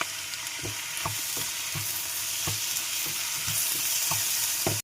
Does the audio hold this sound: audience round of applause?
no